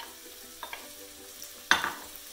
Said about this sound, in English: which I will stir with my huge kitchen spoon